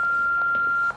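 Answering machine end-of-message beep in the horror game Until Dawn, a single clear electronic tone held steadily for almost a second before cutting off over faint background noise.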